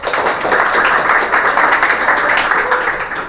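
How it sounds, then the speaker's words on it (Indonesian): A group claps in a classroom learning session after singing a national song, a continuous bright patter of hands that stays fairly loud and steady throughout, with no voices on top. "Tepuk tangan untuk kita semua."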